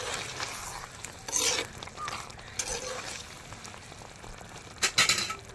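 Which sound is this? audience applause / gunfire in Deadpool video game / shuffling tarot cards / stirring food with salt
stirring food with salt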